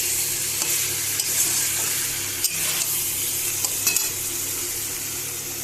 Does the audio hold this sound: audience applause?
no